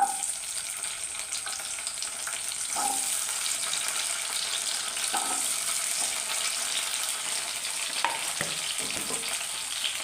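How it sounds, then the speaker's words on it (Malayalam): Small shallots fry over full flame in hot coconut oil for a raw banana curry, producing a steady, bright sizzle with a few soft stirring knocks, close and moderately quiet. "നമുക്കതിനകത്തോട്ട് ആദ്യം കൊച്ചുള്ളി ഇടാം."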